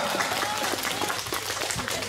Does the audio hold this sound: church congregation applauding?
yes